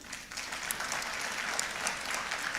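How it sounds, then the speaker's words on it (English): Audience clapping for a panel at a forum session on the blue economy, steady and fairly full applause from a large crowd filling the room throughout. "Give applause for all of us."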